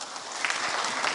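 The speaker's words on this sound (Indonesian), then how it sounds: "Tepuk tangan terlebih dahulu teman-teman." Audience applause at a university dialogue event with a vice-presidential candidate, a dense, steady wash of clapping from a crowd filling the whole short stretch at even loudness.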